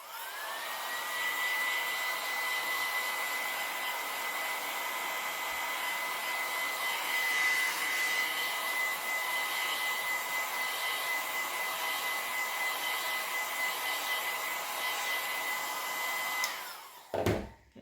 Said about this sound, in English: I'm going to quickly dry this